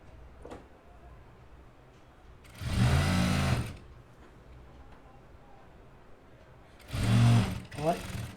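Sewing machine stitching a lined suit in two short bursts of fast whirring, each about a second long, with quiet pauses between and faint background noise.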